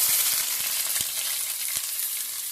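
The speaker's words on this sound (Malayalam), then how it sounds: "അതിലേക്ക് അതിന് ശേഷം നമുക്ക് ആ ഉള്ളി ആഡ് ചെയ്യാം" Onions frying in hot oil with curry leaves for an Arabian chicken chukka, giving a loud, continuous close sizzle with a few soft stirring taps.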